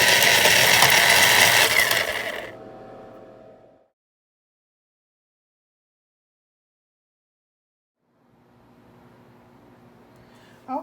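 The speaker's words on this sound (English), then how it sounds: "So now we're grinding up the lemons." Lemons being ground in a kitchen grinder for homemade garden tea, a loud dense whirring and grinding burst for a couple of seconds that fades into a quieter rattle, then silence before faint handling noise returns.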